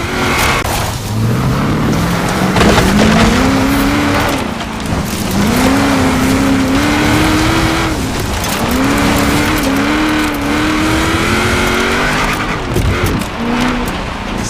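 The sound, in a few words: car driving in video game Forza Horizon 4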